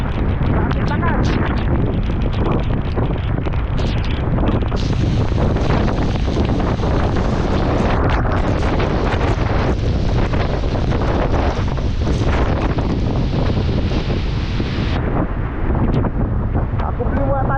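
Typhoon Pepito's strong wind roars over a coastal town alongside crashing sea waves, a loud, unbroken buffeting rush that overloads the microphone throughout.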